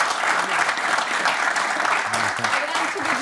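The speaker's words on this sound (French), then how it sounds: "Docteur Lissarazu, qu'on peut applaudir pour sa minute basse." Studio audience applause, a continuous loud wash of clapping across the whole moment with faint voices underneath.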